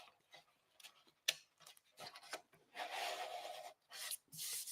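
Hand sanding with 400-grit sandpaper, a series of dry rasping strokes of varying length, some short and some sustained, fairly close with brief pauses between passes.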